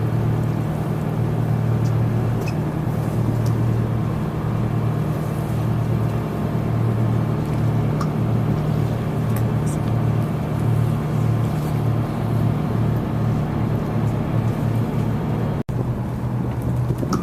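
A boat engine drones in a steady low rumble throughout on a cetacean-spotting trip off Cape May, New Jersey, with wind and water noise over it and a brief dropout near the end.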